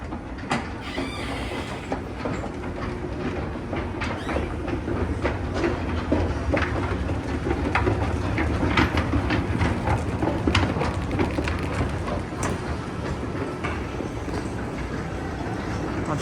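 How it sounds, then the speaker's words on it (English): Historic Otis wooden escalators at Macy's Herald Square in New York City run with a continuous rumbling, clattering mechanical noise, steady and fairly loud throughout, with scattered clicks and knocks on top and faint background music beneath. "Thankfully, the sound of these escalators are drowning the music out."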